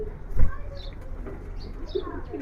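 A pigeon, one of a fancier's birds in Keraniganj, gives a brief, low, close coo over faint background noise.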